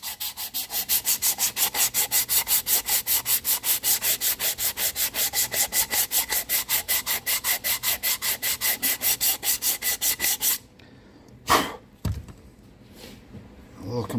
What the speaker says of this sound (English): we'll just give the face of it a sand. So our new gasket will seal